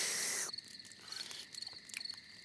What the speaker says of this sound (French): Ce que tu entends, ce sont les criquets qui chantent.